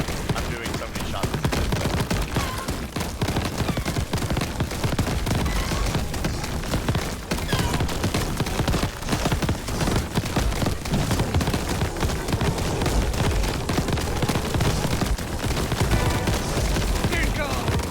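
Video-game gunfire rattles nonstop in a dense, loud barrage of rapid shots and booms, with no break across the whole stretch.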